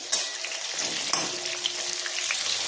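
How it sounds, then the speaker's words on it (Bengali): Mango pieces fry lightly in hot oil for a sweet mango pickle, giving a steady soft sizzle with a few faint clinks and stirs, close and continuous, with no talking. "এবারে সরাসরি আমগুলো আমি দিয়ে দিচ্ছি তেলের মধ্যে ছেড়ে। এবার হালকা আছে আমগুলোকে হালকা ভাজবো।"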